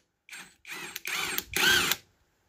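A power tool rattles through four short bursts, each a little longer and louder, loosening a bolt from a Peugeot BA7 four-speed gearbox out of a 404 station wagon. The bursts are close, separated by brief pauses, with no voices.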